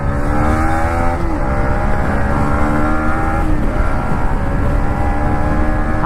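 A Yamaha MT15 motorcycle is ridden fast on a road, its engine droning loud and close throughout, with rising revs and gear shifts under heavy wind rush.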